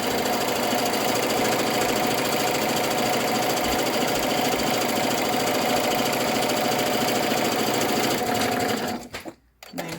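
Sewing machine stitching PUL fabric snack bags, a steady close mechanical whir of rapid needle strokes running continuously before stopping abruptly near the end.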